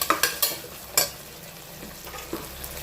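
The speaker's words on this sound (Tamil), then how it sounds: "அதுக்கப்புறம் இஞ்சி பூண்டு விழுத்து வெங்காயம் வதங்கினோடனே" Onions sautéing with ginger and garlic in a pan, a few sharp spoon scrapes and clacks up front over a faint, steady sizzle that carries on at low level.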